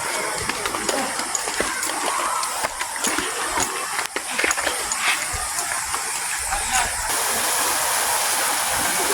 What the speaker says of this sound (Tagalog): nabutas yung piping ng tubig. Oh, mayroon na shower.